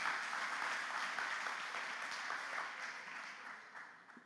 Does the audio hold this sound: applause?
yes